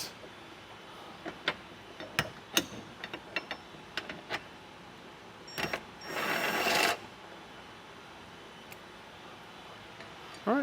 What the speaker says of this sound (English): Now we're going to remove our bolts right here from our hinges.